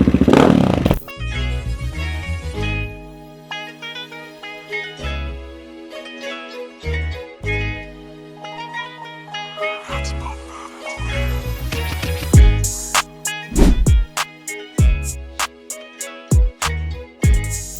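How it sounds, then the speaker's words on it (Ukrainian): A 2024 Geon GNS 300 motard motorcycle idles steadily without the choke, a close, even engine putter with mechanical clatter and a few sharp revs and knocks toward the end. "Як бачите, холостий ход стабільний, немає ніяких профтиків, все працює нормально і добре."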